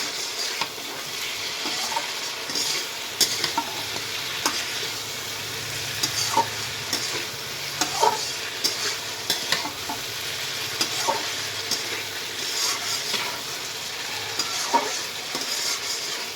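Hilsa fish curry is stirred and fried down in a pan, giving a steady close sizzle with soft scraping and clicking stirs scattered through it, and no voices.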